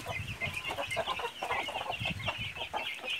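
Broody hens in a farm pen cluck continuously in a dense, overlapping chorus of short, rhythmic calls, close and moderately loud with no talking.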